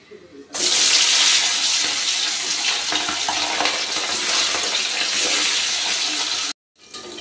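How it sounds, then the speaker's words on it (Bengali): Bhola fish pieces rubbed with salt and turmeric hit hot white oil, bursting into a loud crackling sizzle that continues steadily, breaks off briefly near the end, then resumes. "মাছের মধ্যে আগে থেকে লবণ আর হলুদ মাখিয়ে রেখেছি, আর এই মাছগুলো এবার আমি ভেজে নেব"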